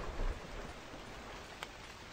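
Steady rain falls in the Kingdoms video game, a continuous soft hiss of drops on surfaces with a brief louder patter near the start and one faint tick later, no voices.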